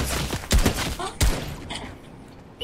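Video game gunfire, a couple of loud close shot bursts in quick succession that trail off into fainter noise, with no talk.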